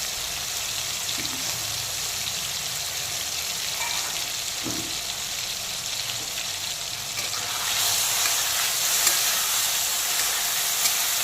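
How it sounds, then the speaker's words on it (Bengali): Salted, turmeric-coated shrimp frying lightly in oil, a soft continuous hiss with a few faint pops that grows noticeably louder and brighter partway through, with no voices. "তবে চিংড়িগুলোকে কিন্তু প্রত্যেকবারের মতো এবারেও খুব হালকা করে ভাজবো।"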